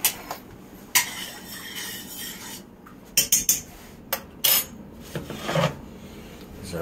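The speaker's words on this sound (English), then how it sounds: "Give it a quick stir." A utensil stirs pickling brine with vinegar and pickling spice in a glass jar, giving scattered scraping clinks and knocks at close range, loudest in several quick bursts toward the middle.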